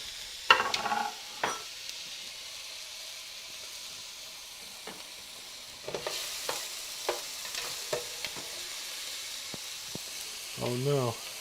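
Onions, garlic and carrots fry in a pan with a soft, steady sizzle under intermittent scraping and stirring knocks, fairly quiet and close.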